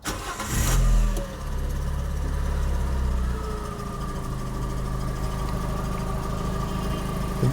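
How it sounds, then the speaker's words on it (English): A Ford Ka's engine cranks briefly and catches, then settles into a steady, loud idle with a low hum that carries on alone to the end. "Should we start the engine?"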